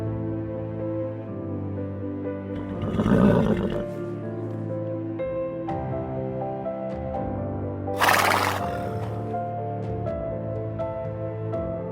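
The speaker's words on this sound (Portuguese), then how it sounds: "Cavalo." A horse neighs and whinnies in a farm-animal sound sequence, with two loud, shrill bursts standing out above a rumbling, harmonic background of animal noise.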